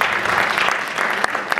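An audience claps warmly after a dance performance at an event in Switzerland, a brief burst of dense, steady applause close by.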